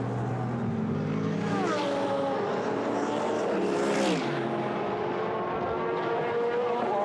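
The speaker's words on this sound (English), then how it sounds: "onto the Mistral straight comes Nico Van Dierendonck, powering his way down towards the chicane" A GT race car powers down the Mistral straight at Paul Ricard during Blancpain GT Sports Club qualifying, its engine a loud sustained roar that rises and sweeps in pitch as it passes, with faint commentary underneath.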